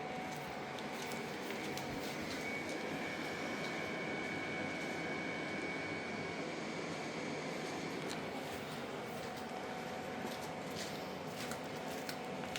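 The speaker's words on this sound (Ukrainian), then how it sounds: "Перший режим, режим охолодження чаші." A GGM SEMG16K ice cream maker runs in bowl-cooling mode, giving a steady, even compressor hum and broadband whir that holds at a constant level throughout with no speech over it.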